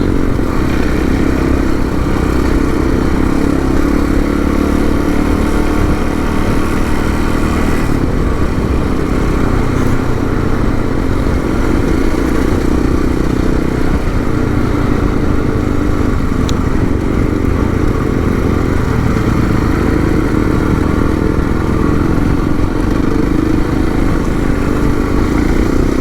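Adventure motorcycle ridden through sand on a multi-day ADV trip, its engine droning loud and close without a break for the whole stretch, with rough clattering mixed into the steady roar.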